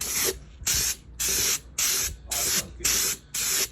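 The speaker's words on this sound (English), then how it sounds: "so after spraying this, I don't think this is primer" Spray paint applied from an aerosol can onto a truck bumper outdoors, heard as seven evenly spaced, loud hissing bursts of about half a second each, separated by brief pauses, with no talking.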